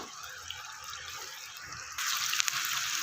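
Finely chopped potatoes fry in a hot pan for a Spanish omelette, a quiet hiss that jumps to a loud bright sizzle partway through, close and alone.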